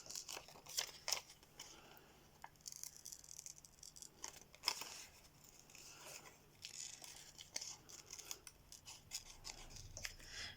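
Scissors roughly cut out silver boot shapes, giving quiet, close, irregular snips and papery crinkles throughout with no talking.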